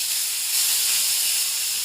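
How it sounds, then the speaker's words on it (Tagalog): Fish frying in hot oil for sarciadong isda gives a steady, close, bright sizzling hiss that holds evenly throughout, swelling slightly midway, with no talking. "We're going to fry the fish first."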